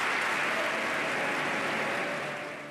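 Sustained, dense applause from a large audience filling a legislative chamber during a congressional speech, a standing ovation that holds steady throughout and begins to taper slightly at the end.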